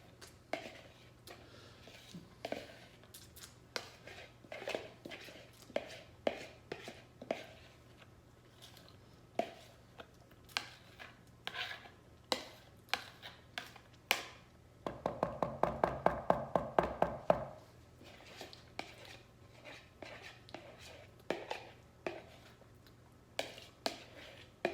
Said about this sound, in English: Now we're going to give all this a very nice stir.